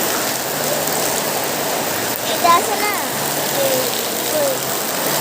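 Heavy rain roars down on a rural Bangladeshi homestead with mud houses, a dense, constant wash of falling water that fills the background while a person speaks briefly over it.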